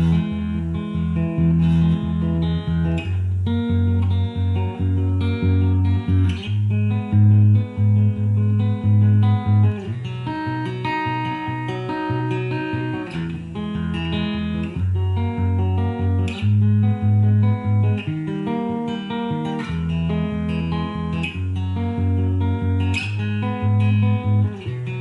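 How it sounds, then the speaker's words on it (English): Guitar playing the middle eight of a song, a steady, full-sounding passage of strummed chords over a deep low end that runs without a break and has no talking. "So that's that whole middle eight sounds like this."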